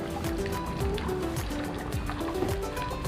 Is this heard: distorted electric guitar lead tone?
no